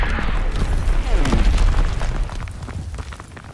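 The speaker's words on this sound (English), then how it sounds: "Enemy mortar fire incoming." Mortar rounds land in a Call of Duty: WWII online capture-the-flag match, with loud, close booms and rumbling blasts layered over battle noise that fades toward the end.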